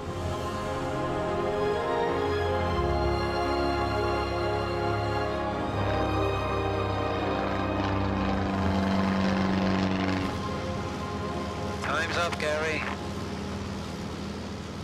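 A small plane flies above Kinnick Glacier, its steady propeller and engine drone holding loud and continuous throughout, with a voice talking over it.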